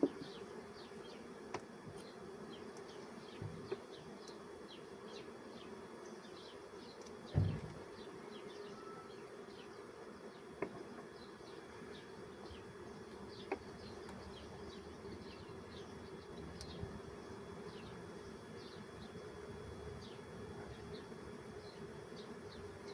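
Honeybees buzzing steadily at a hive after frames of bees from other colonies were shaken into a weak colony, a dense continuous hum with many individual bees passing close, one brief thump partway through.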